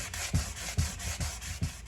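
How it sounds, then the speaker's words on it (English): Cured epoxy on a tumbler being sanded with 220 grit sandpaper, a steady close scratchy rubbing in even back-and-forth strokes, about five passes with a soft thump at each turn. "now we're just going to sand it back down with our 220 grit sandpaper and get it nice and smooth"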